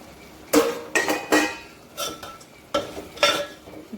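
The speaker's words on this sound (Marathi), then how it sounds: "तेच आता आपण ही शेव टाकून घ्यायची आणि छान अशी परतून घ्यायची" Sev is tossed into a hot tempering and stir-fried in a pan, with a series of distinct scraping and clinking spoon strokes against the metal over a faint sizzle, close and irregular.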